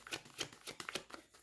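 Tarot cards riffled and shuffled in a quick run of soft papery flicks and snaps, about half a dozen bursts spaced through a short moment, close and fairly quiet with no voice over them.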